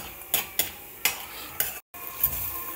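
Chana dal fries in hot oil for ginger chutney, giving a soft steady sizzle close by, broken by a few sharp scrapes and clinks of a stirring utensil against the pan.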